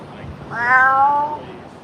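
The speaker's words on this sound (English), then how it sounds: "my hairless cat." A hairless cat gives one drawn-out meow, clear and close, with faint background sound from an outdoor protest gathering.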